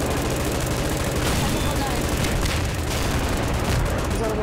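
Loud, dense rumbling blasts and crackling bomb explosions in Garry's Mod roll continuously, with a voice talking faintly underneath.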